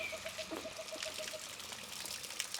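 Spring water runs from a round pipe at a farm-lot spring, a steady pouring trickle at close range with no talking.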